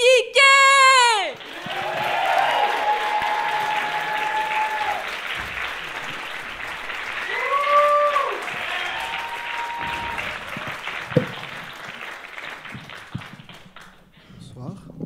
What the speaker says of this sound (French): On va vous demander un tonnerre d'applaudissements pour